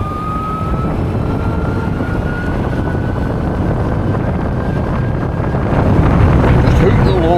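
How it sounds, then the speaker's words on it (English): Wind roars against the microphone while someone rides a BMW CE 02 electric scooter, a loud steady rushing that swells toward the end, with a thin whine running through it and voices partly buried beneath. "Windy today."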